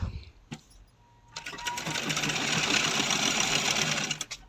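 A sewing machine stitches a designer blouse with a front and back neck design, starting with a brief rattle, then settling into a steady, fast continuous whir that hums for several seconds before stopping.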